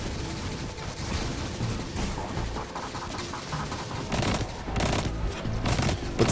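Rapid gunfire from the Destiny 2 video game, a dense, continuous crackle of shots, with sharper bursts toward the end.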